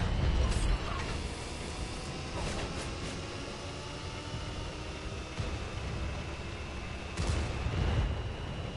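A tank cannon fires a high-explosive shell in World of Tanks, sounding as low booming thumps near the start and end over a steady engine rumble, with faint talk in between.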